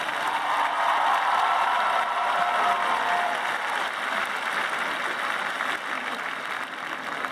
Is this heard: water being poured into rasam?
no